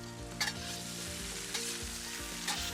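Onions and peppers sizzle steadily in a wok on a Big Green Egg ceramic grill, a dense continuous frying hiss broken by three brief louder scrapes of wok shovels stirring the vegetables; no talking.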